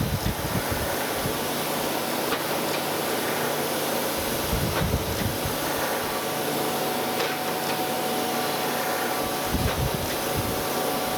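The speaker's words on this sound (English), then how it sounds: "Let's go in here and see if we can grind this top." Surface grinder grinding the top of a camelback straightedge with mist coolant running, a steady loud whirring hiss with faint periodic pulses from the table stroke, continuous and without talk.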